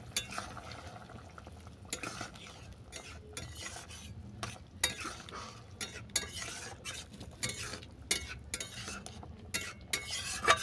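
Mustard paste being stirred into a sour pankha fish curry with okra, soft sloshing and repeated utensil clinks and scrapes against the pot, close and fairly quiet, with no voices.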